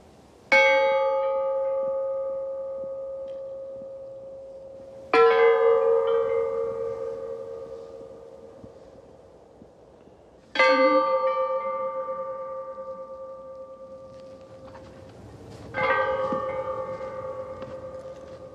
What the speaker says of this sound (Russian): Потом у нас уже жаворонки переросли в звук колоколов.